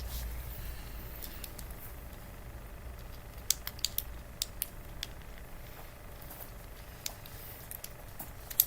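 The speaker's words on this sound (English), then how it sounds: "I hear you aggressively typing in the background" Sparse clicks and taps of typing on a keyboard in the background, irregular and faint, over a steady low hum.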